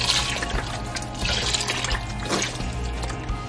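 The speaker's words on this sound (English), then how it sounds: "I kind of just pour it in until all of the vegetables are covered." Vegetable broth is poured from a box into a pot of chopped vegetables for a vegan chowder, giving a continuous close splashing and gurgling of liquid with no talking.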